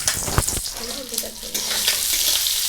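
Food crackles and sizzles in a pan on a new cooking stove, a continuous close hiss with stirring, and a faint voice underneath briefly.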